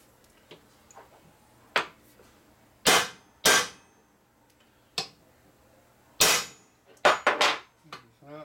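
Hammer tapping a bearing into the inner primary of a 1983 Harley-Davidson FXRT Shovelhead, a series of sharp metallic knocks, some single and some in quick pairs, irregularly spaced, with soft talk between blows.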